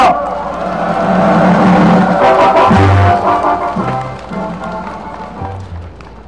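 A crowd at a patriotic rally in Busan cheers and claps to welcome a speaker, a loud rolling roar of voices and applause over low sustained musical tones, swelling and then gradually easing off.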